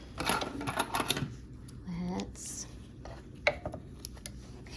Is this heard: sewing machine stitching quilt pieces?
yes